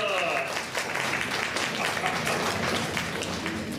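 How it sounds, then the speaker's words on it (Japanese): Audience applause at a Disney show in Tokyo DisneySea, steady crowd clapping that fills the whole moment at moderate loudness, with no talk over it. "やるじゃないか、みんな拍手だ。"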